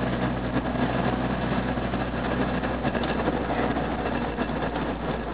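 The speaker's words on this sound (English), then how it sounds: "Decelerating, stop sign. Now skip first gear, ease into second here." An MGB sports car engine hums steadily from inside the car as it decelerates, a constant low drone with road rumble and no distinct gear-change break evident.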